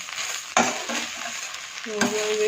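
Steady sizzling of thiruvachi leaves frying in a hot pan, with a couple of sharp scraping knocks as they are stirred; no voices.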